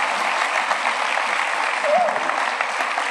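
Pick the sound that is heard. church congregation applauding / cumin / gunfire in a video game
church congregation applauding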